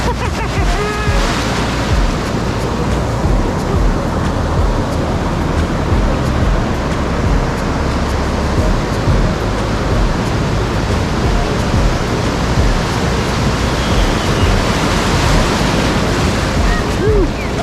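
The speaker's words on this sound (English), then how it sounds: "Those waves are pretty forceful" Forceful ocean waves pounding the beach at La Libertad, El Salvador, a loud continuous roar of surf with wind buffeting the microphone throughout.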